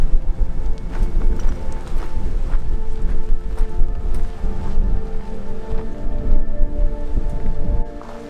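Steady wind gusts across an open Arizona wilderness trail in the Mazatzal range, a continuous broadband rush that stays fairly loud throughout and drops away near the end, with no voices.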